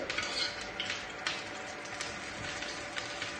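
Fennel seeds fry in hot ghee in a pan for a vegetable kurma, a close, steady crackling sizzle with light scraping as they are stirred.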